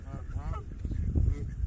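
A goose honks during duck feeding, its calls rising over a steady low rumble of background noise, with faint voices in the mix.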